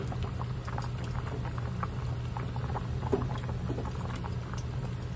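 Pork leg simmering in a pot for patatim, with a steady low bubbling and scattered soft pops throughout, fairly quiet and with no talking.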